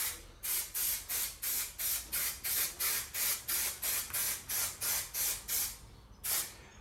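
Contact adhesive sprayed onto vinyl during a 1969 Triumph Vitesse restoration: about seventeen short, even hissing bursts in a steady rhythm, then a pause and one last burst, close and clear with no talk.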